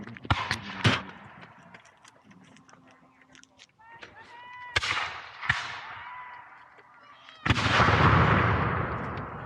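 Musket shots crack sharply at a Revolutionary War reenactment, with several loud blasts spaced across the scene, one closing with a long rumbling roll, amid shouted commands and talk.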